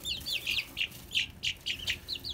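Young backyard chickens in a brooder give a run of bright, high peeping chirps and soft clucks, about eight short calls spaced unevenly, close and clear.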